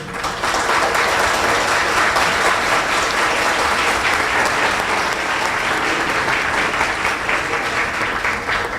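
Sustained applause from a large crowd, dense and steady clapping that fills the whole stretch without letting up.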